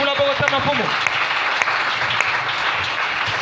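A church congregation bursts into loud, dense applause after a brief voice at the start, and the clapping holds steady and close to the end.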